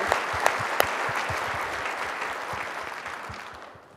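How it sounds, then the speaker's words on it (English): Audience at a 2012 retailing conference applauding a speaker, a dense burst of clapping from many hands that stays full and steady, then slowly tapers off. "Can you at least give Amy a round of applause, too?"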